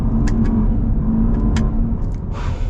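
A 2021 Range Rover Fifty limited edition accelerating, heard from inside as a steady loud low engine and road rumble with faint clicks and a rising hiss near the end.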